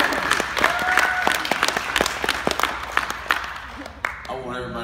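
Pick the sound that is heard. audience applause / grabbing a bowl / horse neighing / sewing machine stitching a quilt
audience applause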